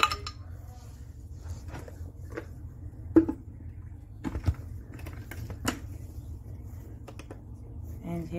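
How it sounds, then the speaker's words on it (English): Ice cubes dropped into a blender jar while making a high-iron smoothie, a series of sharp clinks and clatters scattered over several seconds, close by, against a steady low hum. "Put my ice in."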